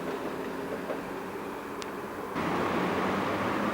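A Brussels tram squeezes through a tight, bush-lined turning loop at a terminus, a steady rumbling running noise with a brief high squeal midway, growing louder and rougher in the second half.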